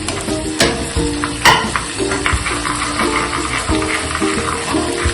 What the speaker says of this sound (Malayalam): വെളുത്തുള്ളി രണ്ട് മിനിറ്റ് വഴറ്റിയതിന് ശേഷം നമുക്ക് ഇഞ്ചി ഇട്ട് കൊടുക്കാം ഇഞ്ചി പച്ചമുളകും ഇട്ട് കൊടുക്കാം